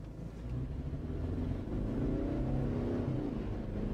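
A Toyota Land Cruiser Prado under hard acceleration, its engine a low, swelling rumble that rises steadily in pitch over a few seconds, heard from inside the cabin with no talk.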